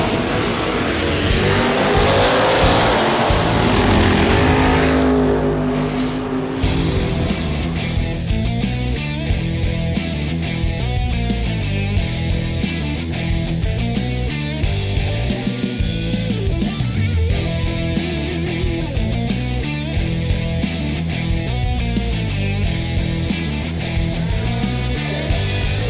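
Drag race cars at the Firebird Raceway Halloween Classic roar loudly and continuously, with a strong engine blast early on and then a steady, throbbing rumble of revving motors for nearly half a minute, no talk.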